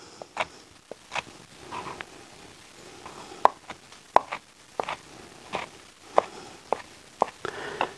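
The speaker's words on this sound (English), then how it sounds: "And now I just slice and chop these tomatoes" A knife slices and chops fresh tomatoes on a board during outdoor woodfired cooking, giving irregular sharp taps and thuds over a soft background hiss, close by and without speech.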